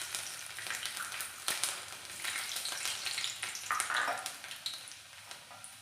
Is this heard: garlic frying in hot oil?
yes